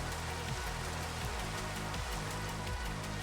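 Steady rain falling in a video game, a continuous hiss of drops that fills the whole stretch evenly, with soft repeating low tones underneath and no voices.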